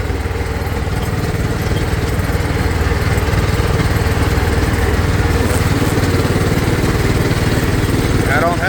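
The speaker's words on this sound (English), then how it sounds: "How about the motor? I think sounds fine back there." A Kawasaki Mule off-road utility vehicle motor runs steadily on a trail at an off-road park, a continuous mid-level engine drone that holds even throughout, with no clear talk over it.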